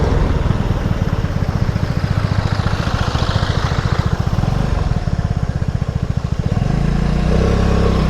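A Lambretta X250 scooter rides along with a steady, buzzing engine drone and rapid rhythmic pulsing, holding fairly even before the pitch shifts near the end as it changes speed.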